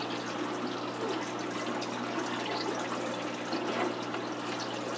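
Aquarium water drains through a siphon hose out of a 125-gallon planted tank, a soft continuous gurgling trickle that stays steady and fairly quiet throughout.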